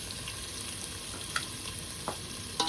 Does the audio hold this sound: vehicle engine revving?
no